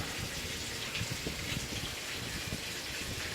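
Water is poured into a steam iron set on a towel, giving a steady, close, gushing trickle with faint splashes that runs throughout without talk.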